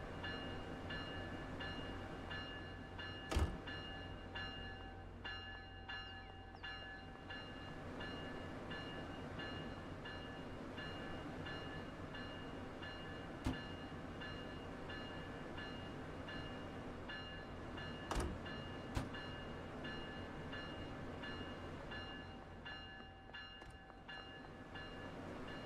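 A train in Train Sim World rumbles steadily throughout, a constant engine drone with occasional sharp clicks and knocks, no voices.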